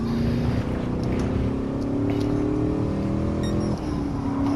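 A stock Chevrolet Camaro SS engine in a racing video game on the Suzuka East Course, a steady droning V8 note rising in pitch then dropping sharply near the end as it shifts, heard alone.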